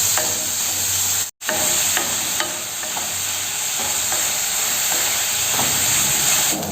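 Onions sautéing in a pan until golden brown, a loud, continuous hissing sizzle with occasional spatula taps, briefly cut out once before resuming steadily, no one talking.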